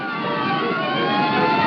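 Cartoon police or emergency sirens wailing steadily in an old Superman animated short, a dense layered whine held loud and continuous throughout.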